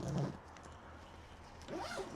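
A packed carry-on suitcase is zipped shut in two quick, close zipper strokes, one at the start and one at the end, with a quieter pause between.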